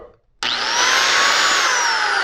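New Lotus power tool switched on for a test run: after a short quiet moment it starts abruptly and holds a loud, steady high-pitched motor whine with a slight pitch drift, nearby and alone.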